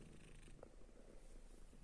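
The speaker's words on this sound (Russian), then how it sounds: "Мурчите, мои сладкие." Several domestic cats purr softly and steadily at close range, a low continuous rumble with no talking over it.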